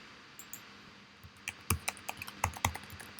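Keys clatter on a computer keyboard as a command is typed into a MATLAB session, a quick irregular burst of close, crisp clicks following a few sparse taps.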